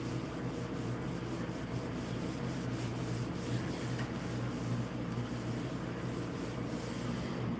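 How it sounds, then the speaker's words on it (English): Steady rubbing of a cloth wiping WD-40 off a slot car track, a continuous close scrubbing hiss with faint rhythmic strokes and no talking. "It does take a lot of repetitive wiping down to get, all the WD-40 off."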